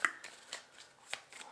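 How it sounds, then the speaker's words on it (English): A tarot deck is shuffled by hand in close-up, with a few crisp riffling snaps and soft card slides in an otherwise quiet room. "Let us continue shuffling."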